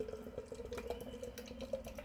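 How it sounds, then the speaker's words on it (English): Guinness stout pours into a glass, a faint steady liquid trickle with light splashy detail over a continuous low background hum. "we'll get the Guinness into the glass"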